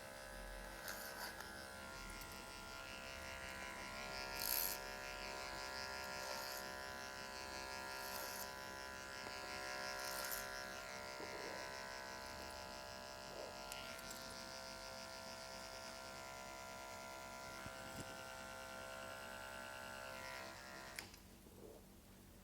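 Andis Super 2 hair clippers with a rotary motor hum steadily through a clipper-over-comb haircut, a low continuous buzz with faint clicks of the comb.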